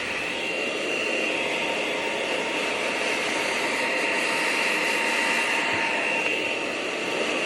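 Hairdryer fitted with a nozzle blows continuously while drying hair extensions, a steady, loud whooshing roar with a whining motor tone, unbroken for the whole stretch and with no talking.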